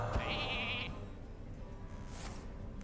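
A single cartoonish sheep bleat from a Hearthstone polymorph effect, a short wavering tone near the start over game background music, followed by a bright chime.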